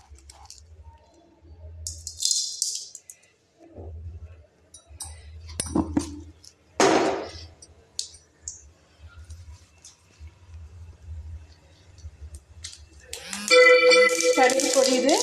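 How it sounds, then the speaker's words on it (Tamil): Mustard seeds hit hot sesame oil in a pan while frying plantain: after quiet stretches with soft kitchen clinks, a dense, close, crackling sizzle of popping seeds erupts near the end. "கடுகு பொரியுது."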